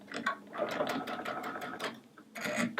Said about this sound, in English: I'm just going to sew that diagonally